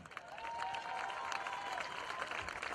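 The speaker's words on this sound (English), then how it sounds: "Let's give one more round of applause for the class of 2018." A crowd applauds the graduating band seniors of the class of 2018 at a football event, steady clapping heard from a distance and fairly faint, with a faint sustained tone running beneath.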